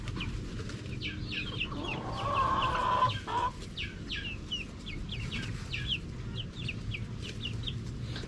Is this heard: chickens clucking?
yes